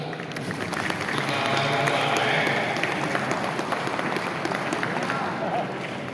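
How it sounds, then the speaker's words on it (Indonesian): Sustained applause from an audience at a Muharram thanksgiving gathering in West Bandung, Indonesia, steady and fairly loud throughout with a crowd murmur underneath. "tepuk tangan"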